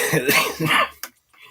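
A harsh, throaty cough sounds up close, followed by a brief sharp click and a faint breathy tail.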